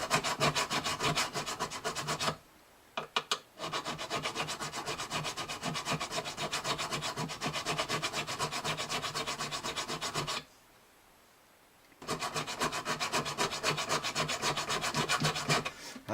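Frets on an old Gibson Southern Jumbo acoustic guitar are sanded and dressed with steady, rapid back-and-forth rubbing strokes, close-up, broken by two short pauses.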